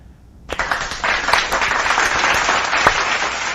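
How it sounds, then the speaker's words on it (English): Applause sound effect during a Clone Evolution mobile game session, a burst of clapping that starts suddenly after a quiet lead-in and continues evenly and loudly to the end. "Let's give him applause for that."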